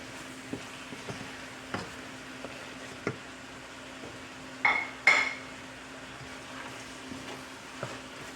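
Habanero pepper being mixed into Nigerian fried rice with shrimp in a pot, quiet background sizzle with spaced metallic spoon clinks and two louder scraping knocks against the pot, no voices.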